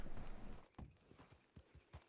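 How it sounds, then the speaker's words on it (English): A horse in a western roleplay video game clip-clops with a few faint, unevenly spaced hoof thuds over about two seconds, quiet and without talking. "There's a horse here."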